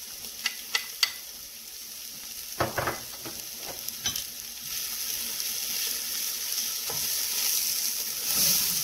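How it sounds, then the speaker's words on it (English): Garlic cooks in a pan with a steady low sizzle, broken by several sharp clicks and scrapes of stirring, all close by and with no voice. "in goes the garlic, and you just want to cook it until it gets fragrant"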